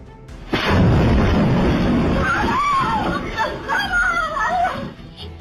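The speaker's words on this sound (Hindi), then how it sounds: "तभी हुआ जोरदार हादसा, एक एक कर फटे सारे बम।" Homemade bombs going off one after another in Bhubaneswar, caught on CCTV: a sudden loud blast followed by a sustained roaring rumble, with agitated voices and crowd noise rising over it.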